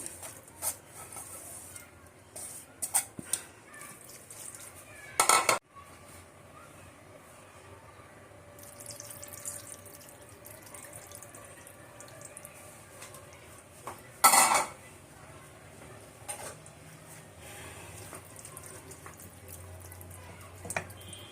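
Small fish in water are stirred in a wok. Soft scrapes and light metallic clinks come and go over a quiet background, with two sharp clattering knocks standing out.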